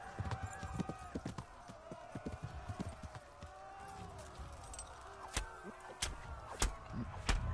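Horse hooves clip-clop in the Kingdom Come: Deliverance video game, starting as irregular galloping beats, then settling into slower, spaced thuds over a faint, tonal game soundtrack.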